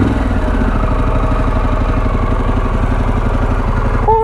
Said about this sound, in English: Harley Davidson Pan America, man. I cannot believe I get the opportunity to ride this motorcycle.